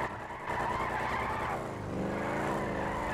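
Car doing donuts in a Dept. of Justice cops game scene, with engine revving and tires skidding in sweeping rising and falling tones, fairly faint and continuous, no voices.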